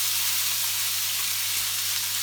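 King prawns frying in a pan for fried rice, a loud, even sizzle and hiss filling the whole moment, close up with no talk.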